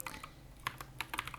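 Keys clack on a computer keyboard as Dart code is typed, a quick uneven run of close, crisp taps with no voice over them.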